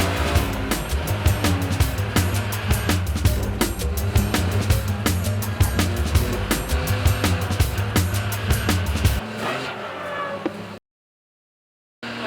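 An Underscore Racing BMW M3 races in the wet at Donington Park, its engine roaring loudly with rapid rhythmic pulses and spray hiss before the sound drops out abruptly near the end.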